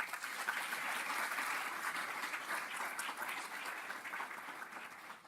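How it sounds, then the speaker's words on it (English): Audience at a teaching institute address gives a round of applause, a continuous, fairly distant wash of many hands clapping that holds steady throughout. "So let's give a round of applause for that."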